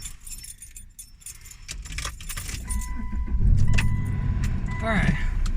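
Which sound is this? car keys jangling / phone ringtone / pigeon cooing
car keys jangling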